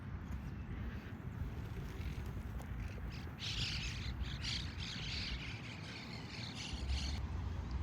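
Birds chirp and squawk over a steady outdoor rumble in Austin, Texas, with bursts of higher calls scattered through the middle.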